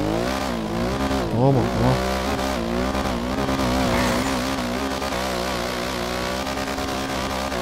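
A 1999 Honda CG motorcycle with a modified engine revs hard and drops through gears on city delivery runs, its loud steady engine note rising and falling near the rider while he says a few words over it.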